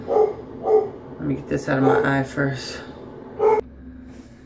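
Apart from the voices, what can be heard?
dog barking after doorbell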